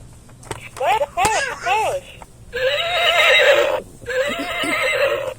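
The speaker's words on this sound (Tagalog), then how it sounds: "Kabayo pala dito." A horse lets out loud, close whinnies: a series of quavering squeals, then two long, shaky neighs separated by a short pause.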